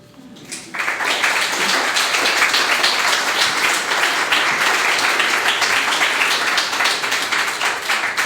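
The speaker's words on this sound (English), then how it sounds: "Please give her another round of applause" After a literary reading at a Man Booker Prize event, an audience bursts into applause following a brief quiet moment, with loud, dense, sustained clapping to the end.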